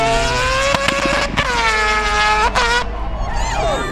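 A rotary Wankel engine screaming at very high revs, loud and close, with several sharp rising and falling sweeps and brief lifts off the throttle between pulls.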